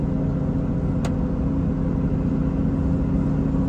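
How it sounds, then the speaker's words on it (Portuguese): A Scania truck descends a mountain road on its retarder and engine brake, giving a loud, steady low engine drone and rumble heard from inside the cab, with one short sharp tick partway through. "É assim que eu desço a serra, sem utilizar o freio, só com os freios auxiliares aqui, o retarder e o freio motor, né?"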